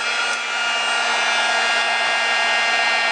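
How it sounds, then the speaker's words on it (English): A handheld heat tool blows hot air steadily to heat-set a dryer sheet, a constant close whirring hiss with a fixed motor whine, unbroken and without talk. "Then I'm just going to heat set that."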